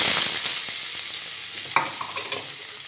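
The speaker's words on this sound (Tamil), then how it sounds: "கடுகு பொரிஞ்சிருச்சு. ஜீரகம் கொஞ்சம் போட்டுக்கலாம். வெங்காயம் போட்டுக்கலாம்." Onions go into hot oil with popped mustard seeds and cumin for Tirunelveli sodhi kulambu, giving a loud, steady close-up sizzle with a brief clatter of stirring near the end and no voices.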